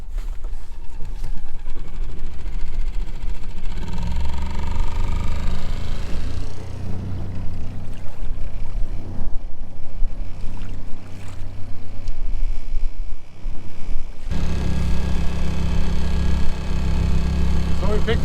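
A 3.5 horsepower four-stroke outboard motor pushes a 23-foot Venture of Newport sailboat, humming steadily and loud close by with water rushing underneath, while a voice talks over it at times.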